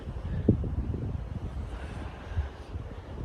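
Light wind at Bryce Canyon, Utah rumbles low and soft against the microphone in uneven gusts, a faint, calm outdoor background with no voices.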